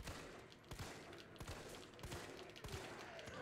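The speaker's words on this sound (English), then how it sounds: "I shot you with so many bullets!" Rapid gunfire in Resident Evil 3 Remake as shots are fired at a zombie: a string of sharp cracks at an irregular, fast pace over steady game ambience, fairly quiet, with no talking.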